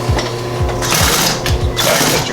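A sewing machine stitches a leather duffle bag, its needle thumping in quick rhythmic bursts with a pause between runs, loud and close with no talking.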